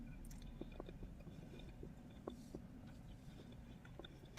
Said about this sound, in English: There's a crunchy jaw and a hot, wet slop in the mouth.